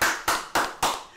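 Four sharp hand claps in an even rhythm, close and fairly loud, each ringing briefly before the next, with no voices over them.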